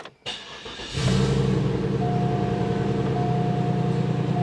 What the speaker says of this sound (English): We finally get to start it up and see if that flex pipe makes a difference.